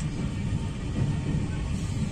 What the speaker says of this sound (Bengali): ওই যে রেল ব্রিজ দিয়ে হচ্ছে ট্রেন যাওয়া হচ্ছে।